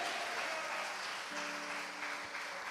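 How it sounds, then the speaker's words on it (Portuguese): A church congregation applauding during an evening Sunday worship service, a soft, even wash of many hands clapping at a distance, with a sustained tone from instruments or voices beneath. "Pode aplaudir e vai glorificando Ele."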